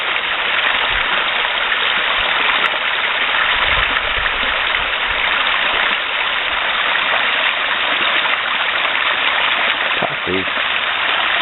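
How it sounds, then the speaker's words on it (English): Water flowing steadily in Parfrey's Glen Creek, a continuous close rushing and gurgling that stays even throughout, with a brief voice near the end. "The sound of the water sounds almost like glass."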